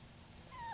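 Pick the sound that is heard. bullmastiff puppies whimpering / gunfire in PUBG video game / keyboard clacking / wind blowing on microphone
bullmastiff puppies whimpering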